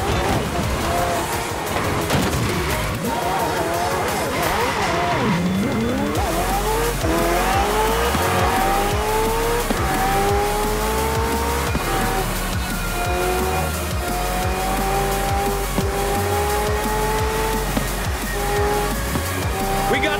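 Hypercars and racing trucks roar through a street race in Forza Horizon 4, engines rising and falling in overlapping pitch sweeps with tire squeal, loud and continuous for the whole stretch.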